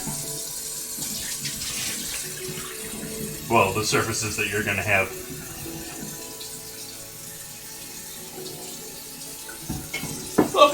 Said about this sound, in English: you want to then rinse off all the surfaces with fresh water